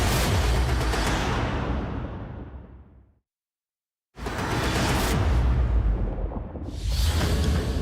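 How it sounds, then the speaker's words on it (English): Carbon dioxide explosions bursting from the surface of Mars, two heavy, booming rumbles with a rushing roar that fades to silence before the second eruption surges in and swells again. "carbon dioxide explosions erupt from the surface"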